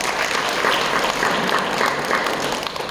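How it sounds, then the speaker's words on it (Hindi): Loud, dense applause from a large crowd at a Gita Jayanti program in Bhinmal claps steadily throughout, with no talking. "भाई जोरदार ताली बजाओ"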